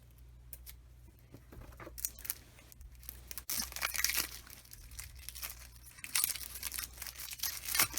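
Close-up snipping and crinkling of a board game's plastic packaging, scissors cutting in repeated bursts that grow busier and louder toward the end.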